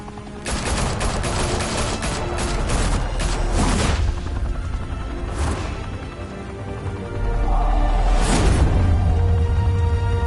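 Dense, loud gunfire in Batman: The Telltale Series, with overlapping shots rattling almost continuously and heavy booms and bursts swelling near the start and again toward the end.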